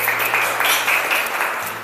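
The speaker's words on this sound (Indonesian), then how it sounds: "Kita beri aplaus untuk kelompok 2" A classroom applauds a student group after their biology presentation: steady, dense clapping fills the room for a couple of seconds, even and moderately loud.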